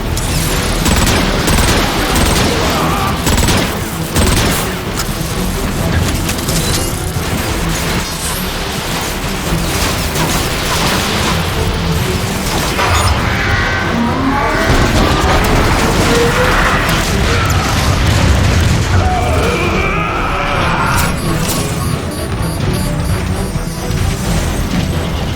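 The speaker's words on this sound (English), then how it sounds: "Rocket incoming!" Rocket explosions and gunfire from the video game Transformers: Fall of Cybertron, a dense, continuous barrage of booming blasts and crashing impacts that stays loud throughout with no gaps.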